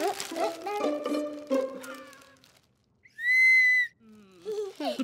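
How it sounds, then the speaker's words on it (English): A toy whistle from a children's party bag gives one loud, shrill, steady blast lasting under a second, between bursts of children's talk. "Look, a whistle."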